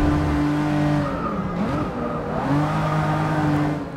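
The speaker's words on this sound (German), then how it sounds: "Na komm, wir driften ein bisschen." A race car drifts in the video game Forza Motorsport 6, engine droning loud and close while tires squeal in long wavering wails that bend in pitch through the slide.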